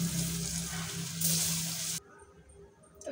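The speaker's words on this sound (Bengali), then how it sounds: "বাকিগুলো একইভাবে ভেজে নিতে হবে।" Jackfruit kofta balls fry in hot oil in a wok, giving a close, bright sizzle for about two seconds before it cuts to a much quieter hiss.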